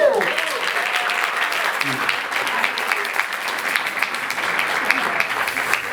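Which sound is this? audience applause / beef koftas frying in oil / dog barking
audience applause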